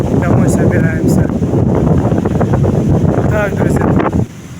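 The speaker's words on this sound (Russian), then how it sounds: "сильный ветер поднимается" Strong wind blowing at a stormy Black Sea shore, buffeting the microphone in a loud, continuous roar with someone talking over it throughout.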